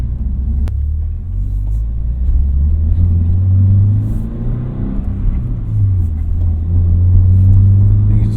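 A 2025 Toyota GR86 Hakone Edition sports car with a six-speed manual gearbox accelerates, its engine a deep, loud rumble from inside the cabin that rises and falls as the revs climb and ease.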